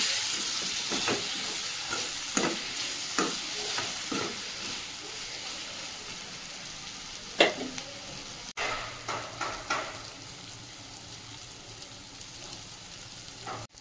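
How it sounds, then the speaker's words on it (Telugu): Brerakaya Pachadi being stirred in a pan, with steady soft sizzling and a series of scraping, clinking strokes from the spoon at an irregular rhythm, close by and moderately quiet. "ఒకసారి కలిపేసుకుందాం."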